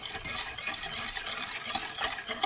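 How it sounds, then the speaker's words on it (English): Bay leaves are stirred into cream in a pot with a spoon, making a continuous soft scraping and bubbling swish that stays close and steady, with no talking. "So once you have all your bay leaves in there, go and just give another stir."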